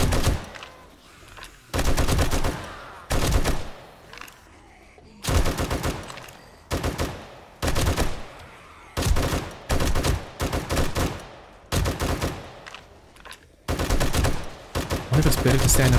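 Repeated bursts of gunfire in the zombie survival game 7 Days to Die with the Ravenhearst mod, loud rapid volleys separated by short pauses, about ten bursts in succession.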